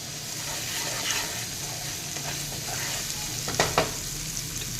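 Chopped potatoes and cooked tomato sizzle steadily in a pan, with a few brief scraping stirs near the end; no one speaks.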